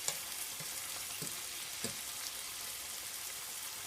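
Red onions sizzle and crackle steadily in a pan on the stove, a soft continuous frying hiss with occasional faint pops and no talking.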